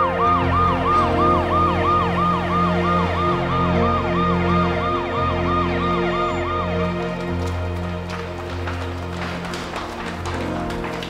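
An ambulance siren wails in a fast, repeating rising and falling pattern, loud and close, then shifts into a steadier tone over rumbling traffic.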